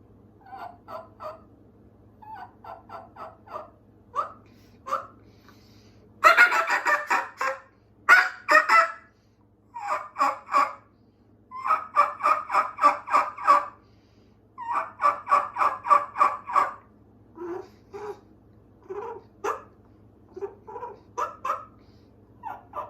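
An HS Strut Premium Flex mouth call produces a man-made imitation of a turkey: raspy yelps in rhythmic runs of several notes, loud and close, with short gaps between sequences.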